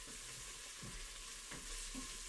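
Vegetables and jalapeño fry in an Instant Pot, a faint steady sizzle and crackle with a few soft stirring scrapes, close and quiet, no talking.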